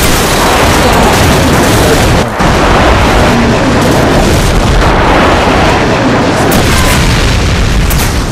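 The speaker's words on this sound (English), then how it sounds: "Friendly airstrike on the way!" Continuous roaring airstrike explosions in Call of Duty 4 fill the stretch, dense booms and rumbling blasts stacked loud and close with a brief dip partway through, no talk over them.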